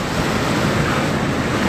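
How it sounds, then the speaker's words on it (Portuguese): Big ocean waves at Saquarema, Brazil, crashing in a steady, loud wash of surf that fills the whole moment with no voices. "Olha o marzão, olha o tamanho das ondas."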